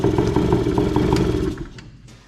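A 2003 Arctic Cat 90 youth ATV engine idles close by with a steady low, rattly chug, the engine running on fuel through the carburetor alone and fading toward quiet near the end.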